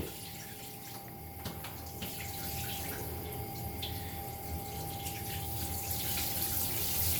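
Tap water runs steadily as a child rinses their feet at a home sink or tub, a continuous close wash with faint splashing throughout and no talk.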